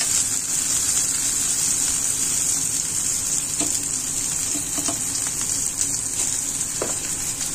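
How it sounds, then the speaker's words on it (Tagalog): Garlic, ginger and a little spring onion frying in hot oil, giving a steady close sizzle that runs the whole time with a few faint clinks of stirring, and no talking. "na-fry na natin yung ating garlic, ginger, and a little bit spring onion"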